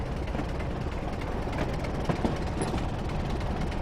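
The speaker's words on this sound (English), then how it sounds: "Because I'm streaming Train Simulator." A Class 27 diesel locomotive in Train Simulator runs steadily from Southbridge to Highwood, a continuous broadband engine drone and rail rumble with faint rhythmic clanks, constant and fairly loud throughout, no talking.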